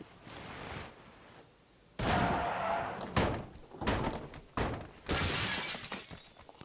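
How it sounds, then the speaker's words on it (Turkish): Glass windows shatter in the mobile shooter game PUBG New State, a sequence of loud, sharp crashing bursts, each followed by brief debris, repeating several times over a few seconds with no talk over them. "Kim camı kırdı?"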